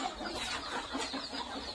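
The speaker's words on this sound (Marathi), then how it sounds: "आता डब्यांमध्ये भरपूर साऱ्या कोंबड्या आपल्या या खूड झालेल्या आहेत" Broody hens sitting in nesting boxes on a village chicken farm cluck softly and continuously, several birds overlapping in a close, busy murmur with no talk.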